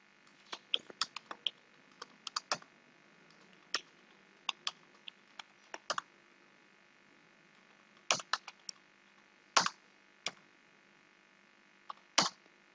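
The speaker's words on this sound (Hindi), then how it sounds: "दूसरा नाम मैं टाइप कर लेता हूँ" Typing on a computer keyboard while entering a user name in a database program: scattered, crisp key clicks in short bursts with quiet pauses between, close and alone.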